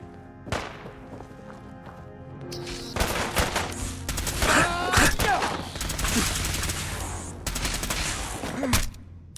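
Gunfire in the Fallout video game, an opening shot followed by dense rapid volleys and sustained bursts, loud and close, with shouting voices mixed in.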